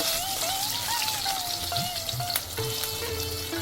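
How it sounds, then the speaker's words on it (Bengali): Steady, dense sizzling of eggplant slices frying in hot oil, loud and close, continuous throughout with faint crackles. "বেগুনগুলোকে ভাজার জন্য দিয়ে দেব"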